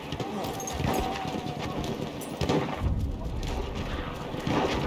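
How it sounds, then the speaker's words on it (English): Galloping horse hooves from an enemy rider in the World War I shooter Battlefield 1, clip-clop rhythm running steadily under a dense wash of distant artillery rumble and gunfire, with voices faintly in the mix. "That's an enemy horse rider."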